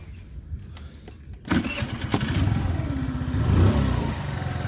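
An Rks Azure 50cc motorcycle engine cranks and catches on the first try, then settles into a steady, buzzing idle that rises slightly, heard up close after a few faint clicks.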